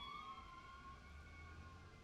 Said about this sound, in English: Say hello to the sirens driving outside.